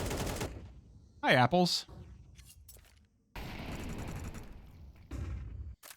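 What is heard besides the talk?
AK rifle gunfire in Counter-Strike video game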